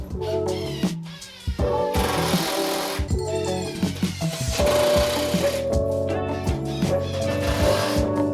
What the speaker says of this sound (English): So now I'm just gonna toenail them all together, secure it